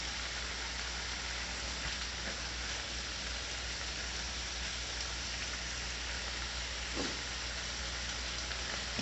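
Fatty bacon frying in a pan, a steady close sizzle and hiss running the whole time with faint clicks near the end.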